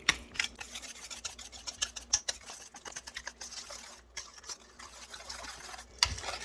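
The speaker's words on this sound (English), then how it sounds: "just give it a good whisk and get it all mixed in" Pumpkin dump cake batter whisked by hand in a bowl, a quiet run of quick scraping, clicking strokes in an irregular rhythm, close and alone without talk.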